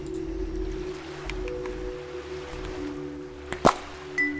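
Soft, steady watery ambience from the video game Nested, a low continuous wash at modest level, with a couple of brief sharp blips near the end.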